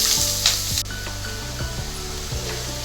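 Cinnamon, bay leaves and onions sizzle loudly in hot oil for an Andhra-style chicken curry. A dense, steady hiss carries over a few soft low thumps, with no voices.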